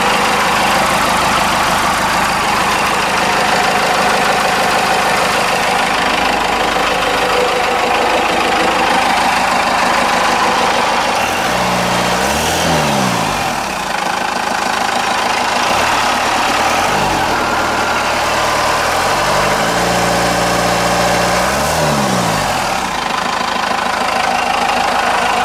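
A Cummins 4BT diesel engine idles steadily and loudly after a turbo replacement, with an exhaust leak adding a rough, ticking chuff to the constant close-up rumble.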